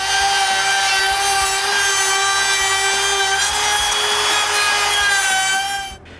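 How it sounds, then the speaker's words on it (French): Handheld router fitted with a flush trim bit cutting wood to enlarge a hole in a miter saw cabinet, a loud close high-pitched whine with steady tonal harmonics and grinding, cutting off abruptly near the end. "Pour ça, j'utilise une mèche à affleurer."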